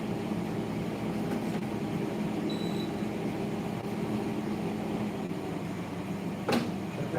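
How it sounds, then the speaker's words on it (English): Household air conditioner running in a house, a loud, steady hum and whir that continues unbroken throughout, with a faint tonal whine and a brief knock near the end. "I'm getting ready to shut this aircon off anyway."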